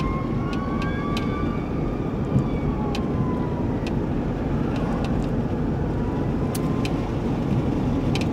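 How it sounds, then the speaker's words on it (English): Several fire trucks head out to a large fire, their sirens wailing and sweeping in pitch at a distance over a steady rumble of traffic and engines, with occasional short whoops and no talking. "There goes the fire trucks heading out there"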